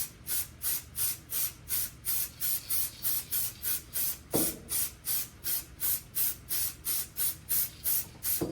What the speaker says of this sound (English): I'm going to go ahead and spray the glass on here a little bit